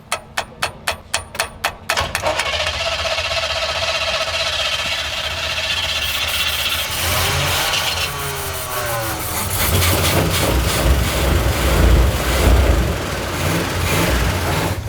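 A '71 Chevy K10 truck engine is cranked in a few rapid starter pulses, then catches and runs roughly and loud, its rumble swelling and surging unevenly as it struggles to stay running.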